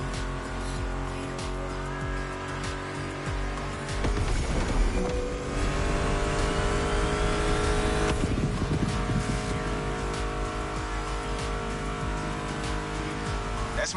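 Muscle car engines rev and roar steadily in the Motorfest racing video game, layered under continuous music with a surge of acceleration midway; no talking.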